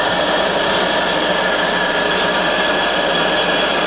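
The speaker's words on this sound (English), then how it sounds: "I'm just cutting through a bit of wood so I can plough through it." A Cosen C-320NC double column bandsaw, fully automatic, cuts through a piece of wood, giving a steady, loud broadband whine with hiss that runs unbroken and alone, with no voices.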